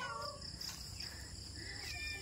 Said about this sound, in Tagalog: Ang aming mga pusa.